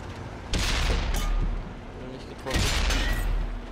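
Cannon shots from a Skoda T50 light tank with an autoloader in an online tank battle game on Xbox One: two loud booming blasts about two seconds apart, each followed by a rumbling tail.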